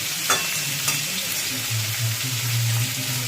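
Boiled pieces, cut into sticks, fry in a pan with a steady close sizzle, broken by a couple of sharp stirring scrapes and a faint low hum underneath.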